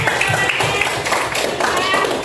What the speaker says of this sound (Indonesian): Tepuk tangan yang lain.